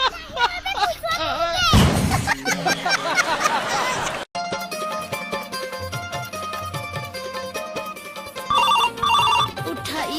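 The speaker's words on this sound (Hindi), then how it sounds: "काका फोन आते उठा दो" A telephone ringtone plays in a home, a repeating melodic ring that carries on for several seconds while people talk loudly nearby.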